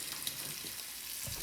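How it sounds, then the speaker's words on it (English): Bacon frying in a pan on a stovetop, a steady, fairly quiet hiss and crackle of sizzling fat with no voices. "now we're gonna make a horrible mess on the stove, frying bacon"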